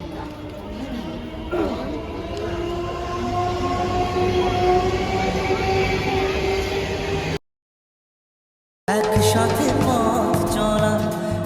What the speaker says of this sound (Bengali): প্ল্যাটফর্মে চলে আসলাম দেখেও একটা ট্রেন আসছে আর ট্রেনটার ভিডিও নিয়ে নিলাম